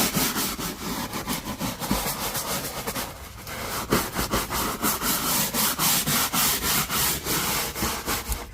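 Rapid back-and-forth rubbing of a towel wiping the interior surfaces of a van during deep cleaning, a close, rhythmic scrubbing swish repeating quickly throughout with no talking.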